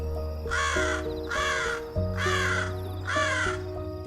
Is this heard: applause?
no